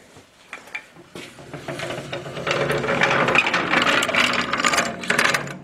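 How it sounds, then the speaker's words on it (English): A hand-operated Pexto grooving machine being cranked in a metal fabrication shop for a copper fuel tank, starting with a few clicks and knocks, then a continuous loud metallic grinding and ratcheting as it works. "This is just a hand-operated pexto machine."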